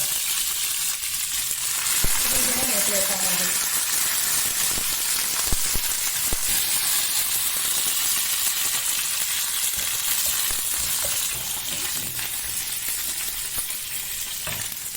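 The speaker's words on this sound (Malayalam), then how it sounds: "വെളുത്തുള്ളി ഇങ്ങനെ തോലോട് കൂടിയിട്ട് കുറച്ച് കറിവേപ്പിലേക്ക് വറവിടുന്നത്" Garlic cloves still in their skins and curry leaves frying in hot oil, a loud, dense crackling sizzle that runs throughout with occasional sputters and pops.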